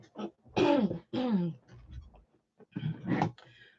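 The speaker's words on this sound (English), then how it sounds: "I'm probably going to clear my throat for the rest of the day" Several short throat-clearing bursts, rough and close, separated by brief pauses.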